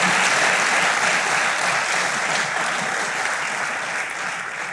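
Loud, sustained applause from a large church congregation, steady clapping that fades slightly toward the end.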